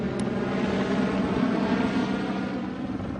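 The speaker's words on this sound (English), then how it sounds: "The helicopters are dropping water on the fire." Helicopters dropping water on a grass and forest fire in a valley give off a steady, droning rotor and engine rumble that holds constant throughout, heard from a distance.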